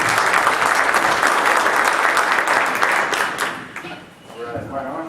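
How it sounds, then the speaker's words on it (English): A round of applause from the audience at a 1 Million Cups Wichita gathering, steady clapping for about three and a half seconds that then thins and dies away as a voice begins to speak. "let's give him a round of applause"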